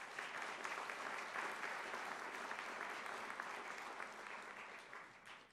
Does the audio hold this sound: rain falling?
no